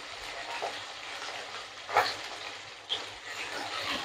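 Hog plum (amra) pieces frying in a pan with a little turmeric and salt for a tangy pickle, a steady soft sizzle broken by two brief clinks or stirs.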